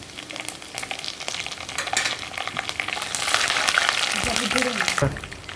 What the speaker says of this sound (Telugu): ఉల్లిగడ్డ పచ్చిమిరపకాయ బాగా వేగిన తర్వాత కరివేపాకు వేసుకోవాలి